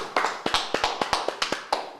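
Hand clapping in brisk, fairly even claps, about a dozen crisp smacks in two seconds, close and clear with no voices over them.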